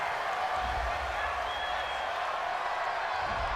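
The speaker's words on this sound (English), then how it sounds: "This home crowd, they're happy with that call." Home crowd at a football playoff game roars and applauds a penalty flag call on third down, a dense, sustained wall of cheering under commentators talking.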